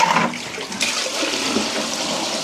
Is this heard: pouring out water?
yes